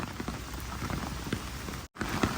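Early morning rain pours steadily onto a farm field, a dense, even hiss of drops with scattered louder patters close by, unbroken except for a brief cutout near the end.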